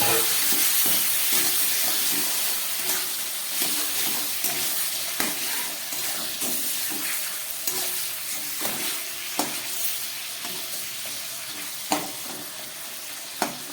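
Marinated chicken, seasoned with ginger and garlic, sizzles in a pan with fried onion, a constant crackling hiss broken by repeated clinks and scrapes of stirring, close and fairly loud.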